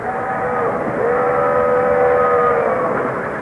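Toy train whistle from an American Flyer model railroad, a steady chord of sustained tones that holds for several seconds and slightly shifts pitch partway through, loud and alone.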